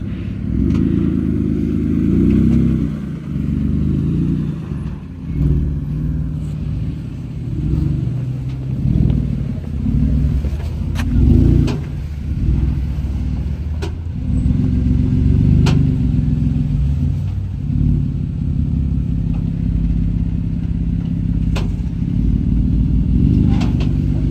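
A Jeep crawls slowly along a level 9 off-road trail, its engine giving a loud, steady low rumble that swells and eases with gentle revs, with no voices heard.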